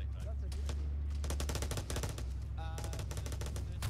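Rapid grenade machine gun fire in the video game Arma 3, a dense run of loud repeated bursts with thumping low booms throughout, heard over players talking.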